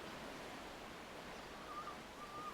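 Gentle ocean water laps against a boat's bow as a soft, continuous wash, steady and close, with a faint high bird call drifting in near the end.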